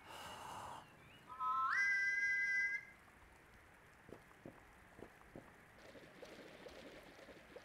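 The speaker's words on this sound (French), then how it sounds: "It's probably faster if I just whistle it" A whistle blown in a video game to call a carriage: a bright, rising tone held steady for about a second and a half, preceded by a brief softer tone, then quiet ambience with scattered light clicks.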